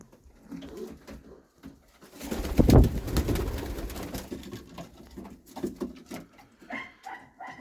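Pigeons cooing inside a loft, a close, soft, throaty coo swelling in the middle and then trailing off, with faint rustling and a thin higher call near the end.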